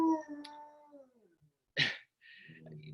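A dog howling as an ambulance passes: a long drawn-out howl sliding downward, then a sharp short yelp and softer whining, close by and fairly quiet, with no siren clearly standing out.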